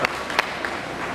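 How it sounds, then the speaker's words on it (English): Audience at an aquarium seal show claps, a short burst of scattered applause from a crowd, moderately loud and brief, without talk over it. "Give him a big round of applause."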